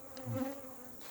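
Honey bees at an opened hive give off a faint, brief buzzing drone, soft and close, with no talk.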